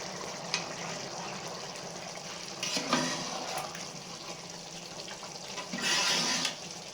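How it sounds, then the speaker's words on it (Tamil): Water cooking down in a pot of seeraga samba chicken biryani, a steady broadband bubbling hiss with a few brief louder surges, close and moderately quiet, with no talking. "தண்ணிலாம் நல்லா சுண்டி வருது பாருங்கள்"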